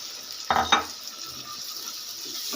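Eggs and spinach cooking together in a pan with gravy: a faint, steady sizzle with two short bursts of utensil clatter and stirring near the start.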